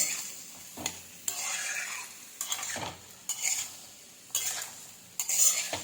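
Beans, potato and carrot being stirred and tossed in a frying pan, a soft sizzle running underneath as a utensil scrapes and clinks against the pan in several separate bursts.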